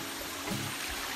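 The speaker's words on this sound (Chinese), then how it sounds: "小溪流水" A small stream flows beside a forest glass-shed lodge near Serendah, Selangor, giving a steady broadband wash of running water. It stays even and continuous, close by, with no talk over it.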